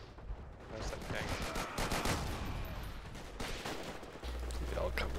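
Video game gunfire from the World War II battlefield shooter Forgotten Hope, dense bursts of shots crackling continuously through the whole stretch at fairly close range, with voices in the clip talking over the shooting.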